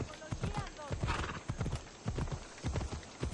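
Steady rhythmic clip-clop of horse hooves trotting in Assassin's Creed Odyssey, continuous and close, with game-like ambience and a faint whinny.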